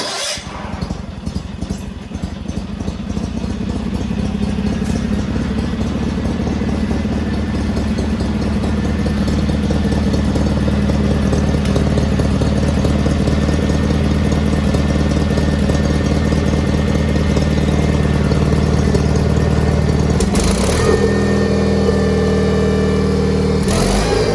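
An older lawn tractor's small engine runs steadily and loudly with a low, chugging idle, rising slightly after a few seconds and holding a rough, continuous drone throughout.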